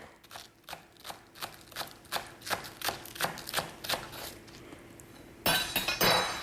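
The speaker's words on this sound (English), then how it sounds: "Stir that, combine that." A mixture is stirred in a bowl with a utensil, producing a steady series of about a dozen rhythmic clinking scrapes against the bowl, close and moderately loud, ending in a brief louder rustle.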